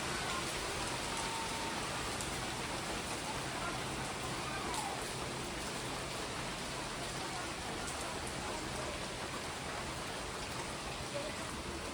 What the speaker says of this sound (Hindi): मैं आपको दिखाती हूँ, देखिए क्या बारिश हो रही है।